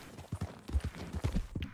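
Horse hooves clip-clopping in Red Dead Redemption 2, a quiet run of soft, uneven hoof thuds close by with a few faint sounds mixed in.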